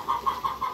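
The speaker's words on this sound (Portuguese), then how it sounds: "E a galinha tá cantando ali." A hen clucks close by in a home yard while pork fries for a family lunch, giving about four short, evenly spaced clucks in quick succession.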